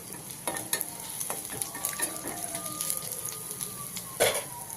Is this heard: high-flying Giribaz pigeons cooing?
no